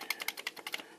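Keys clacking on a Commodore 64 keyboard, about eight crisp, close keystrokes in a quick uneven rhythm, the return key pressed among them, with no voices.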